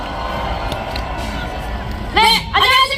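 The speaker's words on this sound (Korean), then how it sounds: "여러분, 큰 박수 부탁드립니다." A crowd at a political rally for impeachment opposition murmurs, then bursts into loud cheers and whoops that rise sharply twice near the end.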